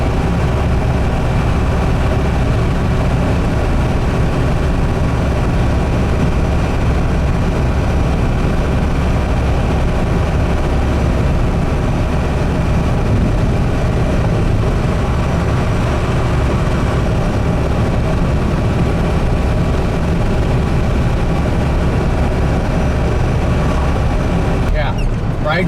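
A Bullnose Ford F150 pickup with new coil spring suspension cruises along, its engine droning low and steady under constant road and tire rumble from inside the cab, with occasional speech over it.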